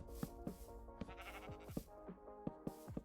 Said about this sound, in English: we will lure these sheep back to the area